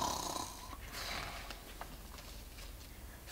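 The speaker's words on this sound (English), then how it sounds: "the giant started to snore." A deep, rattling snore drones steadily for a few seconds, with rough breathy noise and no talking.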